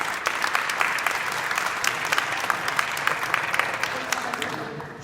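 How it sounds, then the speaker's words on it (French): An audience at a banquet claps in a steady, dense patter, with a few sharper individual claps standing out, continuing for about five seconds at moderate volume. "Je pense qu'on peut les applaudir, effectivement."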